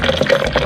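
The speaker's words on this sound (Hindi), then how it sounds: "अब हम इसमें दूध डालेंगे।" Milk being poured into a blender over ground dates, giving a short, close, continuous gurgling splash.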